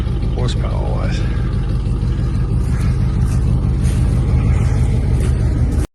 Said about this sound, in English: 500 and 400 horsepower V8 Cadillac engine from the factory. Biggest motor Cadillac produced